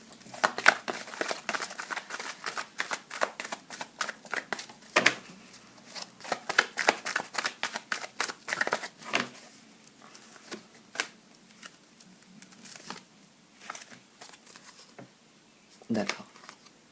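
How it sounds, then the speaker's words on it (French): Tarot cards being shuffled and drawn, giving dense rapid papery flicks and snaps with a few sharper slaps, close up and steady for most of the stretch, with no voice over them. "Je vais tirer 3 dernières cartes quand même."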